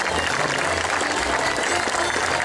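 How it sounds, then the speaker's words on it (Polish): Steady applause from a crowd at a harvest festival presentation of harvest wreaths, a dense continuous clapping that is moderately loud and fills the whole moment without pause. "Wielkie brawa!"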